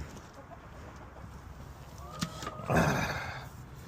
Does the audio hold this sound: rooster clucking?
yes